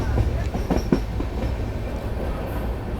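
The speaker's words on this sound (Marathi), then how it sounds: "खूप छान प्रकारे आपल्याला ही रेल्वे दिसत आहे" A train rumbles along the track on a curve near Akola railway station, with a steady low roar and faint wheel clatter, a few louder knocks near the start, continuous throughout.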